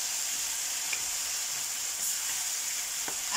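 Tomatoes and mushrooms fry in a pan with a constant close sizzle, broken by a few light clicks of a utensil stirring them.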